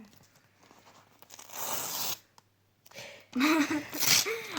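Paper packet being torn open in several quick rips, close by, separated by short pauses, with a brief surprised vocal exclamation near the end.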